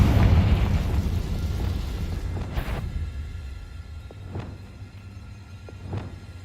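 Confringo fire-blast spell in the wizarding video game Hogwarts Legacy, a loud booming explosion that rolls into a fading rumble, followed by a few sharper pops and bursts further off.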